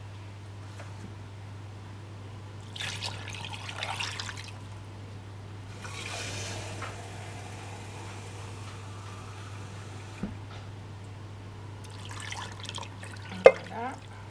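Water is poured over bones in a pot to start a bone broth, heard as intermittent trickling and splashing bursts over a steady low hum, close by with no talk.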